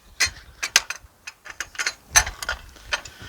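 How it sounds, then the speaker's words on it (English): A DeWalt saw stand is adjusted, giving a run of short metallic clicks and ratcheting clunks, close and fairly loud, spaced irregularly over a few seconds with no talking. "I do have this handy dandy DeWalt stand"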